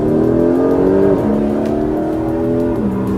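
A loud Porsche 911 GTS engine revs and accelerates with a steady, rich exhaust note, partly augmented, pitch climbing and dipping slightly as it pulls, close and sustained.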